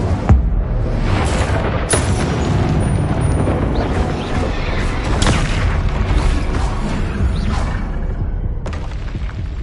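Spell blasts from Bombarda and Confringo in Hogwarts Legacy on PS5, loud booming explosions with sharp cracks recurring through the clip over a dense rumbling background, no talk.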